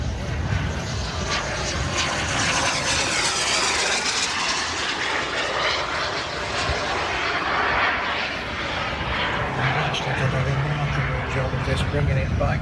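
A model Panther jet with a 180–200 size turbine roars steadily at an airshow, a loud sustained whoosh and whine heard under an announcer's continuous commentary.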